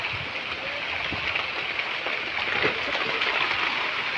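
Heavy rain pours steadily in a village during the rainy season, a dense, constant hiss of falling water that stays loud and even throughout, with no voices standing out.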